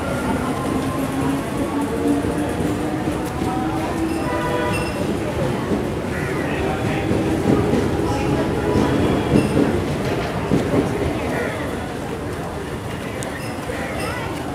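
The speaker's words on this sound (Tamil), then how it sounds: "ஆப்போசிட்டில் ஒரு மெட்ரோ ட்ரெயின் போகுது டுவர்ட்ஸ் தாம்பரம் ரூட்டில்." A metro train passes toward Tambaram in Chennai, a loud continuous rumble and rattle of rail cars heard from a nearby platform with busy station noise and voices mixed in.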